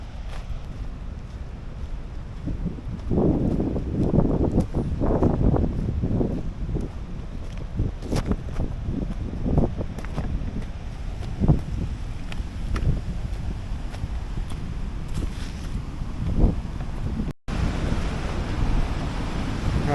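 Rushing water and rapids pouring from Horseshoe Dam in the Arizona desert, a steady broadband roar heavily mixed with gusty wind buffeting the microphone, fairly loud and continuous with no talking.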